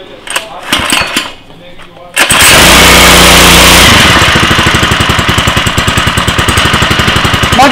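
A Bolat pesticide sprayer engine starts up after some handling noises and voices, then runs loud and close with a rapid, even, pulsing knock that fills the rest of the clip.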